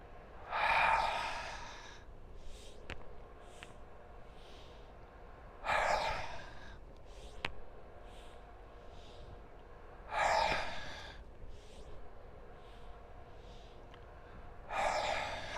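Four slow, deep breaths during a standing pranayama exercise, each a loud, breathy rush of air spaced about five seconds apart, with quiet pauses between them and no talking.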